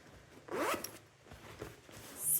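A compression packing bag zips shut during packing, with one quick rasping pull and a couple of shorter tugs that sound close and clear, then a brief hiss of air at the end.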